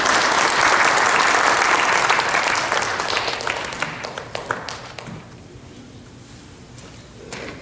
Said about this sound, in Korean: 우리 한 번 더 환영과 또 축복의 박수로 드리겠습니다